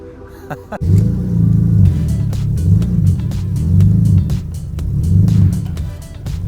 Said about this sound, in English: the car started right away, which is good. The exhaust sounds really good.